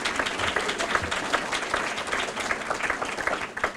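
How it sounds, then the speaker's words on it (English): An audience at an evening county financial report meeting applauds State Senator Patrick Gallivan, with dense, steady clapping from a crowd that fills the room for a few seconds. "Let's give him a round of applause."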